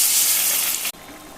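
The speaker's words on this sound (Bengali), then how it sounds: "এখন একটু জল দিয়ে দেবো।" Water splashes into a hot pan of chickpea ghugni, a loud continuous sizzling hiss that cuts off sharply partway through, leaving a quieter steady steam hiss.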